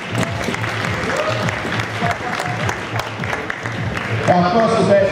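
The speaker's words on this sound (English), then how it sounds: "Nice round of applause for our judges." A crowd at a college ballroom dance competition applauds the judges with steady, fairly close clapping, and a voice speaks briefly near the end.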